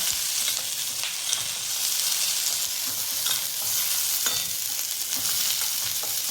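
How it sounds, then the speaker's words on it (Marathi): Okra sizzles in hot oil with green chillies, the pan hissing steadily while a spoon stirs it with repeated scraping and clinks, close-up and with no talking. "आता भेंडी तेलामध्ये चांगली हे होऊन देऊया, मिक्स होऊ देऊया. ही चांगली हलवून घ्यायची आहे."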